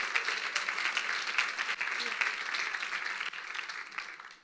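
A church congregation applauding during a Good Friday service, sustained dense clapping at a steady level that fades away at the end.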